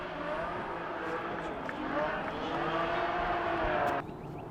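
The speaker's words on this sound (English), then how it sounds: "You hear a little bit of background engine exuberance." A motor engine drones steadily in the background during a disc golf tournament round outdoors, a continuous mid-level rumble with faint tonal hum that drops away abruptly near the end.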